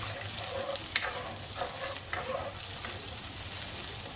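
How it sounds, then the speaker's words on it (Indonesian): Mackerel and chicken in a sweet soy sauce bubbling in a pan, a soft steady sizzle and simmer with a few faint clinks and pops, no voices. "Biarkan sekejap dia mengelegak."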